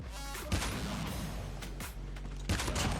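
Sniper gunfire in the shooter game Call of Duty: Mobile, a few sharp, loud shot bursts spaced over a few seconds against a dense, continuous game soundscape, with no speech.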